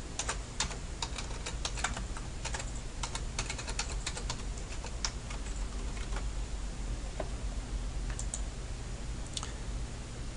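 Steady, rapid clatter of keys as a message is typed on a computer keyboard for icing sheet software, close and fairly even in rhythm, with no talking over it.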